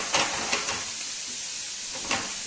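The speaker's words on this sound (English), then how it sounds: "The mushroom and sausage mixture is almost looking good. Mushrooms are boiling." Mushrooms and sausage cook together in a pan with a steady close sizzle and hiss, and a few sharp stirring scrapes break through the frying noise.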